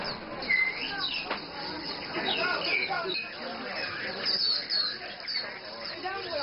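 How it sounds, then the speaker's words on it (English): Birds chirp and squawk at a busy street market in Nanjing, with bright, scattered calls throughout over a constant murmur of crowd noise and voices. "You've got birds kind of chirping everywhere."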